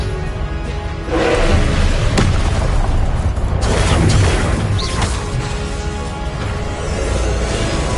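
Confringo blasting spells in Hogwarts Legacy going off as loud booming explosions, a heavy blast near the one-second mark and more bursts and crashes following over a constant rumble.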